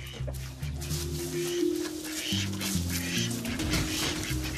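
Barnyard fowl calling together at a farm in Val de Travers, with quacking ducks and clucking hens overlapping continuously at moderate volume, no voices.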